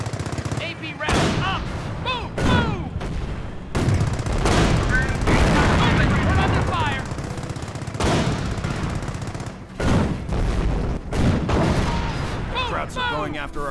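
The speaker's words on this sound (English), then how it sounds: "Taking fire! Guys, we're taking fire!" Company of Heroes battle gunfire: loud bursts of machine-gun fire and rifle shots crackle in heavy, overlapping volleys with booming impacts, mixed with shouted soldier voices.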